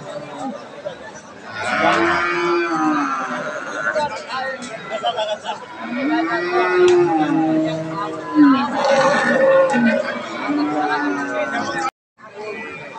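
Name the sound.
cow mooing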